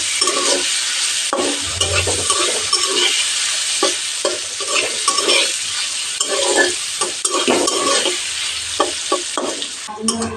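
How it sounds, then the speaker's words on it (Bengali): Paneer frying over medium heat in hot mustard oil with salt and turmeric, a steady loud sizzle broken by scraping stirs, heard close up with no talking. "কড়াতে আন্দাজ মতো সর্ষের তেল ভালো করে গরম করে নিয়েছি একটুখানি নুন আর একটুখানি হলুদ দিয়ে পনির অ্যাড করে মিডিয়াম হিটে ভেজে নেবো"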